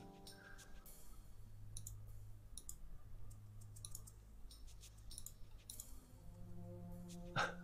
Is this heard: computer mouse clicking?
yes